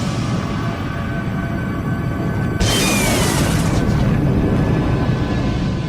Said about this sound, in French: Poussière composée de débris d'anciennes étoiles géantes qui, au terme de leur vie, ont explosé.